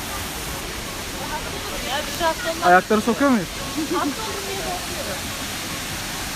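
A steady rushing roar of Ilıca Waterfall in Pınarbaşı fills the background, with a person speaking briefly over it midway.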